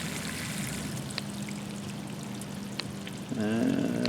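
Water sprays steadily from an RV's outside shower while it is switched from cold to hot, a continuous hiss with a rising tonal whine from the plumbing near the end.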